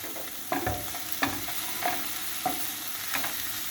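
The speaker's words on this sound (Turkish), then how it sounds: "Hepsini bir karıştırıyorum." Spices, black pepper and dried thyme, are stirred in a pan for a potato börek filling, with sizzling frying underneath and several distinct scraping strokes at a steady rhythm.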